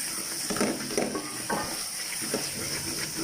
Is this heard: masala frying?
yes